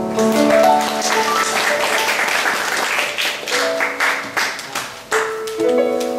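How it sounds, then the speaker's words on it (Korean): A church congregation claps together in sustained applause for about six seconds, loud and steady, with an organ or keyboard chords ringing beneath and a few stray claps fading near the end. "하나님께 영광의 박수."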